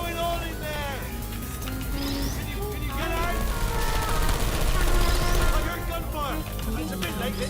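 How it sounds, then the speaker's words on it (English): Bursts of rapid gunfire crackle amid video game sounds and chirping tones, with a voice talking over the action; the shooting swells louder in the middle. "I heard gunfire."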